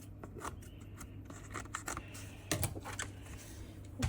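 Short crisp snips of scissors cutting paper, several quick cuts in a loose rhythm over a steady low hum, close by.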